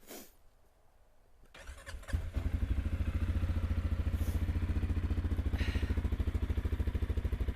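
A CFMOTO C-Force 625 Touring ATV (2023) engine cranks and fires up, then settles into a loud, steady, throbbing idle through its exhaust that continues without interruption.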